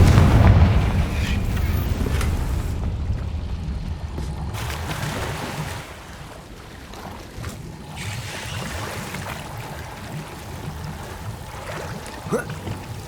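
A Confringo fire-blast spell going off in Hogwarts Legacy, a loud low booming blast at the start that rolls into a rumbling roar, then fades into quieter game ambience.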